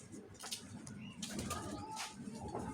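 Soft pigeon cooing close by over a steady background hum, with a few brief flutters and chirps.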